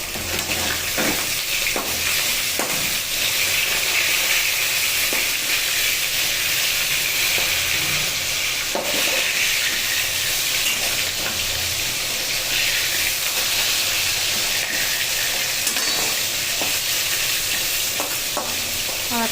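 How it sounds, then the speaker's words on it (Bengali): Fish sizzles steadily in hot oil in a pan while tamarind fish is being cooked, with occasional stirring and scraping clatter over a constant frying hiss, close and fairly loud, no talking. "আর এদিকে মাছ ভাজা হচ্ছে।"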